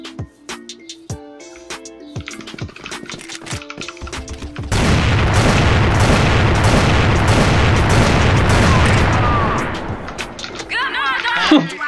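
Loud grenade blast followed by a dense roar of gunfire in a tactical shooter match, filling several seconds before fading into scattered shots; players talk over the action.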